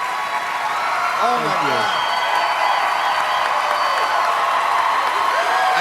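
A television talent-show audience rises in a loud standing ovation, steady applause and cheering with whoops, while a voice speaks briefly over the crowd.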